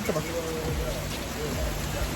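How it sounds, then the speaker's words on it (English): Steady rain falling during a Florida beach day, a continuous hiss across the whole stretch with people talking over it. "This rain is tough too."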